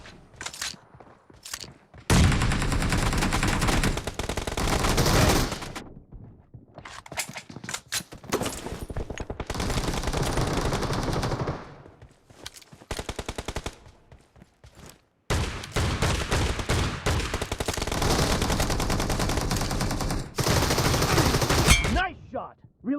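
M1014 shotgun fire in a shooter video game, long dense stretches of loud, rapid booming shots broken by short quiet gaps, close and dominant throughout.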